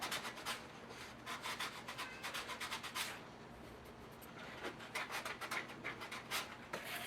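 Hand sanding on an Estes model rocket part, taking off a small plastic tab: a close, steady series of short rasping rubbing strokes repeating in quick rhythm, with a brief pause midway and no talking.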